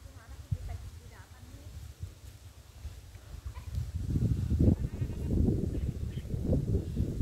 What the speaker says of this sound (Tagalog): O ito lalaki pong kambing natin,